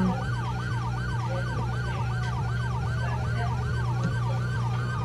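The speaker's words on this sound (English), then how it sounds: "Have your high speed chasing siren on." A wailing police siren in the video game Brick Rigs cycles steadily up and down without pause, loud and continuous over a low engine drone.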